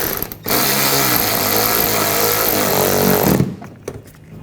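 A power tool drives a screw into the front bumper area of a 2014-2020 Nissan Rogue during an impact absorber replacement, giving about three seconds of loud, close, ratcheting whir that starts and stops abruptly.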